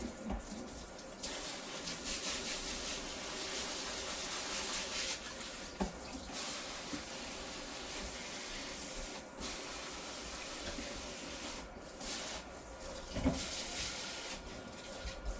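Water sprays steadily into a kitchen sink with a broad hissing rush, pausing briefly a few times, with faint clinks of dishes.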